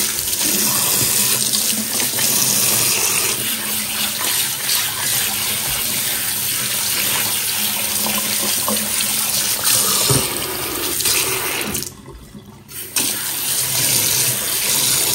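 Tap water gushes steadily over cleaned prawns in a kitchen sink, splashing close and loud. The flow breaks off briefly near the end, then carries on.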